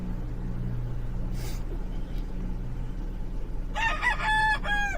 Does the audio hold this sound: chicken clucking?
yes